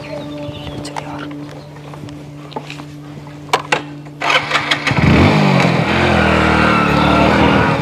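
A motorcycle engine cranks and catches after a few scuffs and clicks, then revs up and roars steadily as the bike pulls away, loud and close, with no talking.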